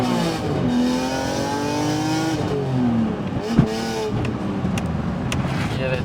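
A BMW E46 M3's straight-six blips and rises as the automatic rev match kicks in, several rising engine swells with a sharp mechanical clunk partway, heard close from inside the car.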